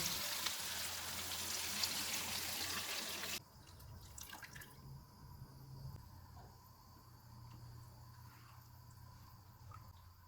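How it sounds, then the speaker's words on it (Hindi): A loud rush of water pours into a cooking pot for a few seconds then stops abruptly, leaving a quiet room hum with faint drips and clinks. "4 गिलास पानी डालेंगे।"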